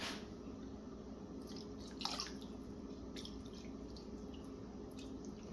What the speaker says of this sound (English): Couple splashes of lime juice.